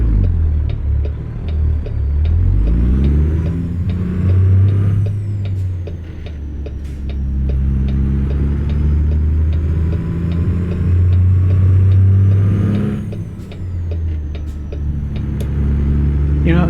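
A semi truck with an articulated railcar-mover trailer rolls into a parking spot in American Truck Simulator, its engine droning low and steady with rising and falling revs and faint ticking, close and continuous.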